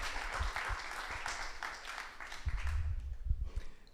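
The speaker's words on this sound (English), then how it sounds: "give a big round of applause to Pierre" Moderate audience applause at a tech talk as a speaker is welcomed to the stage. The clapping is fairly quiet and diffuse, with a few heavier thumps near the end.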